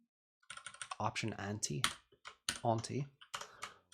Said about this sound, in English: typing ampersands real hard